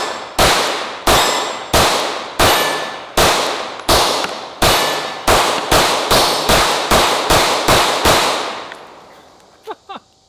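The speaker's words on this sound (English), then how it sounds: "my High Point for the first 4 or 5 shots was nailing that steel target" Hi-Point and Glock pistols fire about fifteen shots in quick succession at a steel target. Each loud crack is followed by a ringing clang, and the pace speeds up toward the end before a couple of faint clinks.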